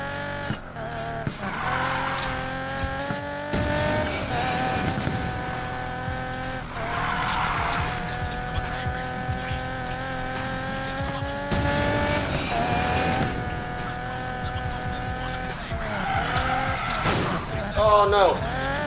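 A car drifts in Need for Speed Payback, its engine revving in rising and falling surges while tires squeal and skid through repeated slides, loud and continuous, with a voice speaking now and then over it.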